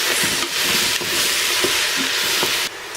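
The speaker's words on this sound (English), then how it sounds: "And in goes my zucchini as well. Give it all a mix." Zucchini and other vegetables frying in a pan while being stirred, a steady close sizzle with scraping strokes of the spoon at a regular rhythm, no voices.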